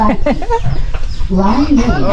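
Chickens clucking close by in a rural Filipino yard, several short rhythmic clucks mixed with people talking.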